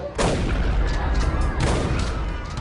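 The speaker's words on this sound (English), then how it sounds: "They jump out and open fire." Gunfire at a 60s party, a dense continuous roar of repeated shots and blasts at loud close range, swelling again partway through, with no clear talk over it.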